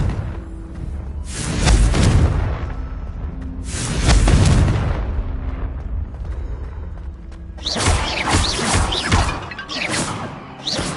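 Booming fire-blast bursts from the Confringo spell in Hogwarts Legacy, two heavy crashing explosions a couple of seconds apart, then a denser crackling flurry of blasts toward the end, loud and close with no talk.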